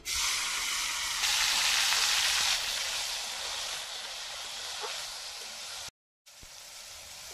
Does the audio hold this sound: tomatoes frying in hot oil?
yes